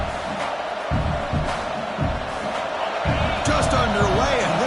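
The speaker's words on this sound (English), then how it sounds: "this home crowd is fired up and ready to make a difference today" A home crowd at a college football game roars steadily in a dense, loud wash of cheering and noise that swells slightly toward the end, with no clear individual voices standing out.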